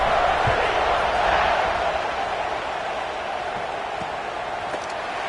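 Stadium crowd noise in a college football video game, Auburn versus Kentucky, a steady broad roar that holds throughout at moderate loudness, dipping slightly midway, with a few faint thumps and no clear talk.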